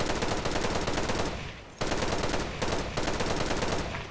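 Automatic fire from an HK147 rifle in the online shooter Special Force 2: rapid, loud bursts of close shots, broken by two short pauses as the trigger is released and squeezed again.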